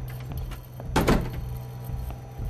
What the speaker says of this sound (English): That door slam was very loud.